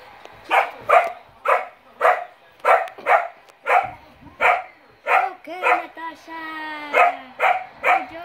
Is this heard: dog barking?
yes